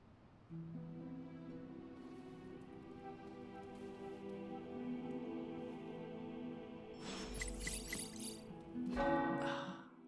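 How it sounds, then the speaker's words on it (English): Tower bells ring in the game Marvel's Midnight Suns, with sustained overlapping resonant tones and lingering hum, moderately quiet, and a brighter cluster of strikes swelling near the end. "The tower bells are ringing."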